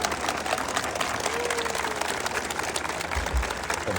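Colleagues, including soldiers, applaud behind a surprise marriage proposal at a Nazi surrender anniversary event: steady, dense clapping throughout, moderately close, with no clear speech over it.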